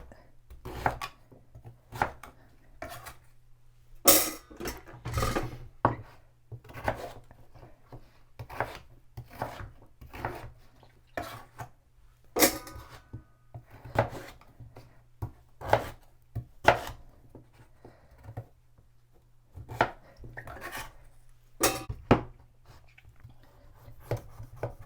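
A knife chops food into pieces on a cutting board in a healthy meal-prep kitchen, a long run of crisp, irregular close-up chops with short pauses, alone without talk.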